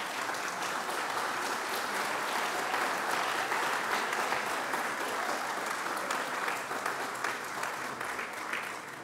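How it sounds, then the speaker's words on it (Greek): Sustained applause from a conference audience greeting young diaspora Greeks aged 18 to 25 from Melbourne, dense, even clapping filling the hall for several seconds without a break. "Σας παρακαλώ να σηκωθείτε και να τους χειροκροτήσουμε όλους μαζί."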